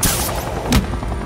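Police open fire in the video game Batman: The Enemy Within, a loud, dense burst of rapid gunshots with one sharp heavy shot cracking out near the middle.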